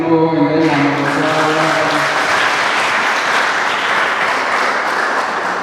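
Audience applause at a leather goods business event, steady and dense throughout, with a brief tonal voice or music trace fading out in the opening two seconds.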